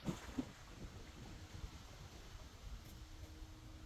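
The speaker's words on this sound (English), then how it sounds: "It's quite windy out here." Steady low wind rumbling and buffeting across an outdoor microphone in a park, a continuous gusty roar with no other clear sounds.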